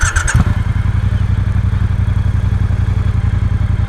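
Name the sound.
Triumph Speedmaster motorcycle engine idling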